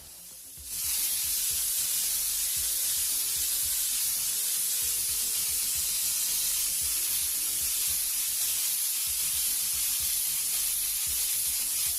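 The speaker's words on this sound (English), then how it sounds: "we'll go and spray that whole area orange so we can lay down the masking and cut out that shape and keep it covered." An airbrush sprays orange paint in a loud, continuous airy hiss that starts abruptly and holds steady to the end, with no talking.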